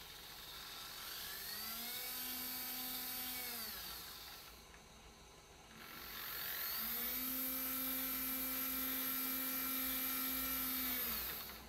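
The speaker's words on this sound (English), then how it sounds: "This servo has been modified to run continuously in either direction" A hobby servo motor modified for continuous rotation runs with a thin, whining gear hum. The pitch ramps up, holds, winds down through a brief lull, then rises and holds again. The sound is close and quiet.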